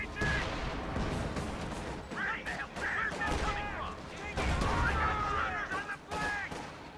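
A Jagdpanzer tank destroyer fires on a mortar unit in a World War II real-time strategy game, with sharp cannon and gunfire bangs and rumbling impacts scattered through the battle din. A voice is partly heard over it.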